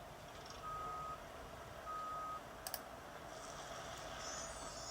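Reversing beeps from a cement truck in a construction video game: two steady electronic tones a second or so apart, loud and clear over a faint hum, with a couple of brief clicks after.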